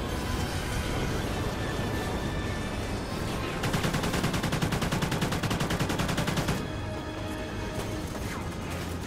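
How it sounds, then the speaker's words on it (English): Sustained automatic fire from an AK-12 assault rifle in Call of Duty: Ghosts, a rapid, even burst of shots lasting about three seconds over a dense bed of continuous game noise and effects. "this AK-12 is doing some serious damage"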